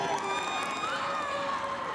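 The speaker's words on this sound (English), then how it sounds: "There's the South Sioux City crowd that made the trip down" South Sioux City soccer crowd in the stands at a state boys championship match, a continuous murmur of cheering and shouting voices with whistle-like tones, steady and moderately distant.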